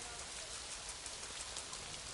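Rain in the Planet Zoo video game hisses as a dense, steady patter of drops, continuous and fairly quiet, with no voices over it.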